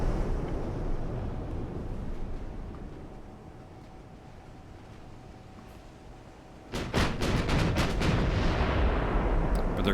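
Naval artillery from the warship battle game Ultimate Admiral: Dreadnoughts: a low rumbling sea-and-wind bed, then a sudden loud salvo of heavy cannon blasts and cracks followed by sustained roaring noise, with no speech.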